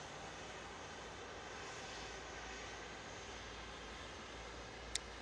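An Air Tanker Airbus A330-200 jet departs Manchester Airport, heard as a steady, distant broadband engine roar with a faint high hiss and a brief sharp click near the end.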